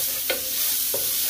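Garlic sizzles in a pan, a bright, hissing fry heard close with two quick scraping taps of a utensil against the pan.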